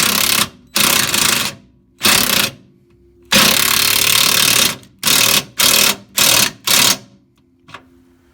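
A power tool, likely an impact wrench, tightens the nut on a Ford Focus rear control arm in loud, close bursts of buzzing hammering, some long and some short, separated by brief pauses.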